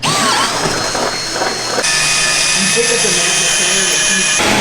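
A power drill with a hole saw whines steadily at close range for a few seconds as it cuts an access hole in a hood, a high mechanical drone over a noisy background.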